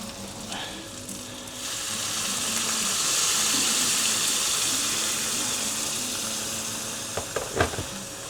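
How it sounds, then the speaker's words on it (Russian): Hot water is poured into a pan to start a mushroom cream sauce, setting off a loud, steady sizzle and frying hiss that swells in the middle, followed by a few clanks of stirring near the end. "В моем случае я сейчас заливаю сюда горячей водой."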